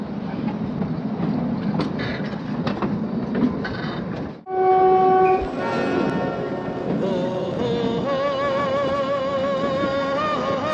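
A train bound for Shimla passes through Katli Ghat station in the Himalayas, a loud rumbling run with rattling carriages, clacking wheels and a sustained wavering horn blast, with no voices.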